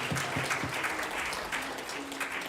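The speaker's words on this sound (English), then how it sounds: "Let's give a round of applause to Kumu Keli'i." Crowd at a hula competition applauding a kumu, with continuous, moderately distant clapping from many people and a few faint voices underneath.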